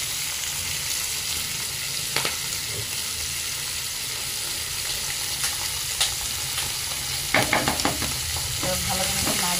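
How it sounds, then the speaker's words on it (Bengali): Continuous sizzling of spice paste frying in masala in a pan, with a spoon scraping and stirring through it and a few sharper clatters near the end. "ভালো করে নাড়িয়ে নেবো, একটু মিক্স করে দেবো।"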